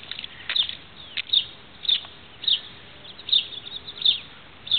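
Birds call outdoors on a rainy day near a river, with short, high chirps repeating at fairly regular intervals over a quiet background hush, moderately distant, no talk.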